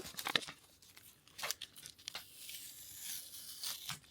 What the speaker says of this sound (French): J'ai réussi à enlever le bout de scotch.